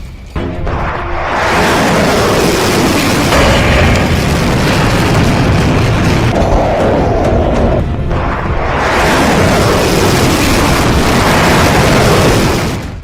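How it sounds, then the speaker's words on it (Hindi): Powerful blasts from an Iskander ballistic missile strike carrying a 700 kg warhead, with loud, sustained rumbling roars swelling in two long waves of dense, broadband noise and no talk. "500 किलोमीटर रेंज वाली इस्कंदर मिसाइल जहां गिरती है वो 700 किलो वाले विस्फोटक से धमाका करती है"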